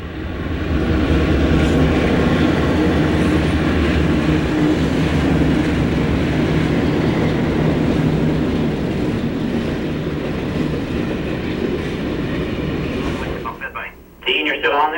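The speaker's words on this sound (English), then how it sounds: "Soon all that is left is the sound of the sea and the rhythm of the rails." Passenger train rolling steadily along rails by the sea, a continuous heavy rumble with faint clacking, loud and close, ending with an abrupt drop in level.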